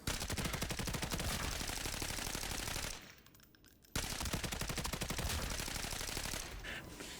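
Rapid automatic fire from a VSS rifle in the shooter game Arena Breakout Infinite: a dense, loud burst of shots for about three seconds, a brief pause, then another sustained burst that tapers near the end.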